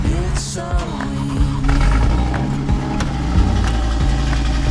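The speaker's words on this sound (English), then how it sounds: "The engine just doesn't sound right, especially when I rev it a bit." An Audi RS3 engine runs loud and close with an uneven, stumbling rhythm, misfiring on a missing cylinder, irregular knocks breaking up the idle as it revs slightly.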